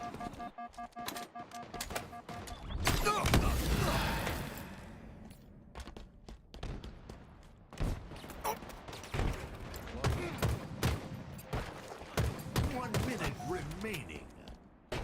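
Rapid bursts and single shots of gunfire in a Halo multiplayer match crack out across the whole stretch, clustered and fairly loud, with voices talking over the combat between volleys.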